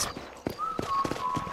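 Horse hooves clip-clop at a steady walking rhythm in Red Dead Redemption, close and clear, with a faint whistling tone running behind the hoofbeats.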